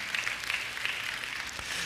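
A church congregation breaks into dense, steady applause that carries on evenly, many hands clapping together at moderate volume.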